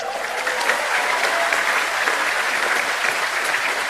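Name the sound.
audience applause for the two party chairs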